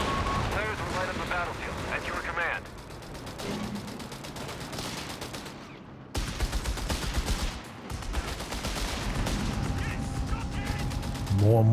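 In the video game Company of Heroes 3, Land Mattress rocket barrages fire in a loud, dense volley of crackling blasts and booms that overlap in waves, with commentary talk running over the top.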